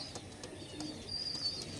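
Pigeons coo softly nearby in low, rolling murmurs, with a few faint chirps mixed in against a quiet background.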